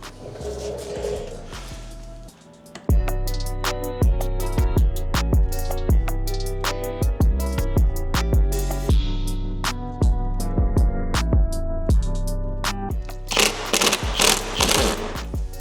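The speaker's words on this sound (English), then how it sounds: "Just pull the old front lip off" Old front lip coming off an Evo 8 bumper that is flipped face-down, with loud, rapid ratcheting clicks in uneven bursts and sharp mechanical snaps close by, continuing steadily after a short quiet start.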